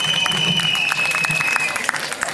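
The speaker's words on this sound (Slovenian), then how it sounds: "En aplavz za prestol." An outdoor pride parade audience applauds a throne prop brought onstage, a dense wash of clapping from a crowd, steady and fairly loud throughout, with a host's voice speaking over it.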